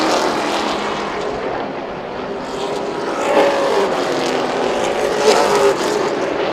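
Race cars lap Birch Run Speedway in a JEGS/CRA Triple Crown event, a loud continuous engine roar that swells and fades as cars pass at a distance.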